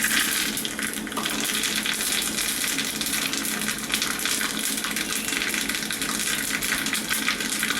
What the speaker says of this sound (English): Heat oil in a pan and splatter mustard seeds.